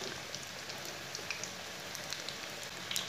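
Onion pakoras deep fry in hot oil with a faint, even, rain-like sizzle and scattered small pops.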